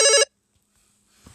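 A telephone gives a single short, loud electronic ring close by, followed by near silence and a faint rustle.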